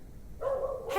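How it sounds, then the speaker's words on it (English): A dog barks in the video game The Excavation of Hob's Barrow: a couple of short, close yips after a quiet start, loud and alone with no talking over them. "Oh, it's a doggo."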